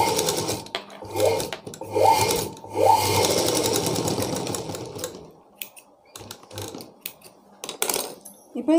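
A sewing machine stitches a blouse in short bursts of rapid whirring, with gaps and scattered clicks of handling between runs.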